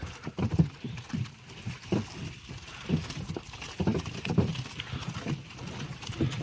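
A draft mare pulls a cart along a rural road in the Ternopil region of Ukraine, her hooves clip-clopping in a steady, even rhythm at moderate distance, with faint background noise.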